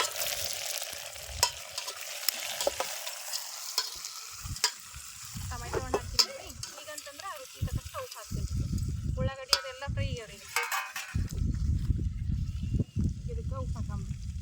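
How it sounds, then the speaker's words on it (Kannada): Onions and dal sizzle and crackle in a pan as tomatoes are added and stirred in for bisibele bath, cooked outdoors in a farm field, with a loud, steady fry, scraping stirs and a voice talking over it. "ಉಳ್ಳಾಗಡ್ಡಿ ಬ್ಯಾಳಿ ಎಲ್ಲ ಚಂದ ಫ್ರೈ ಆಗ್ಯಾವ್ರಿ ಇದಕ್ಕೆ ಟೊಮೆಟೊ ಹಣ್ಣು ಹಾಕ್ತೀನಿ"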